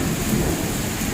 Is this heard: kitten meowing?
no